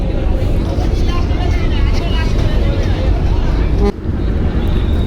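A passenger launch ship turning on the river at Barishal, heard as a loud, steady engine rumble and drone with people talking over it and crowd noise around.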